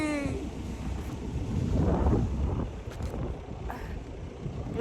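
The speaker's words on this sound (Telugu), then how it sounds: "గాలి అందుతుంది." Wind blows steadily across an open hilltop outside Hyderabad, a continuous broadband rush that swells around the middle with gusty buffeting against the microphone and no voices.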